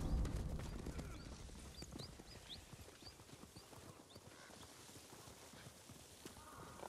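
Mounted riders approaching in the video game Ghost of Tsushima, a quiet, continuous clatter of many hooves clip-clopping at a distance, with faint bird chirps above.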